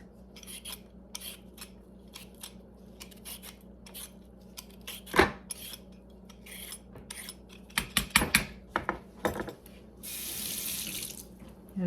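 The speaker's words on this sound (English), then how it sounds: "I'm just going to peel this carrot off, take off the sides." A carrot for beef stew is peeled in a kitchen with a series of short, crisp scraping strokes and a few knocks, close and fairly quiet, ending with a brief gush of water from the tap.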